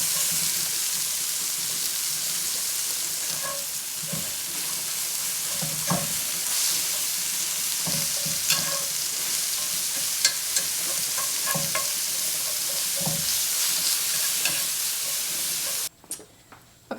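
Pork seasoned with ground clove browning in a frying pan, a continuous loud sizzle and hiss with intermittent scraping stirs and occasional utensil taps, close up and with no voices.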